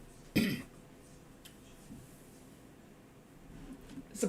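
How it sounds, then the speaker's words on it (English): A single short cough near the start, with another brief cough near the end, separated by quiet room tone. "Doing a lot of coughing today"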